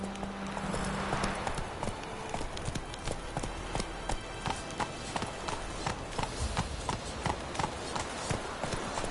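Horse hooves clip-clop in the video game The Witcher 3: Wild Hunt, a steady rapid rhythm of crisp, close hoofbeats running throughout at a trot, with faint ambient noise beneath.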